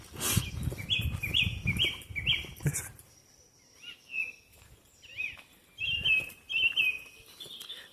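Woodland birds in Midlothian, Scotland, call in bright repeated chirping phrases with pauses between them. Rustling footsteps underlie the first few seconds before quieter, clearer song returns near the end.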